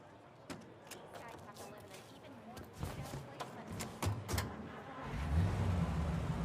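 A car engine hums and gradually swells in Mafia Definitive Edition, rising louder toward the end beneath a conversation between driver and passenger.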